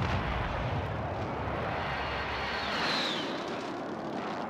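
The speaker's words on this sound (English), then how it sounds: "Getting an airstrike coming." Airstrike in a multiplayer shooter game: a continuous heavy rumble of distant explosions and artillery-like blasts with a faint whine of aircraft, steady and loud, with no talking.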